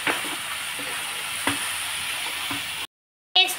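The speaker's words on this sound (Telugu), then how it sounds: "అల్లం వెల్లుల్లి పేస్ట్ పచ్చి వాసన పోయేదాకా ఫ్రై చేసుకోవాలి" Ginger-garlic paste frying in a pan for biryani, a steady broadband sizzle with faint stirring clicks, close and fairly loud, cutting to brief silence before a short burst of sizzle returns.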